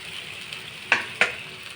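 Pork barbecue sizzles on a grill with a steady, close hiss, broken by two sharp crackling pops in quick succession.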